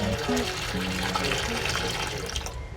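Water running from a tap while salted bitter gourds are washed in a sink or bowl, a steady splashing flow with some handling noise and talk over it throughout.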